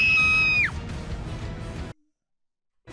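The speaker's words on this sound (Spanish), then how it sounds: "El grito ha sido lo que le ha ahuyentado" A man screams loudly to scare off an attacking bear, a sharp high yell that breaks off and drops, followed by rough rustling and commotion before sudden silence and a brief sound at the end.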